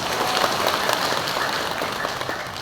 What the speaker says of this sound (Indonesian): tepuk tangan buat BSI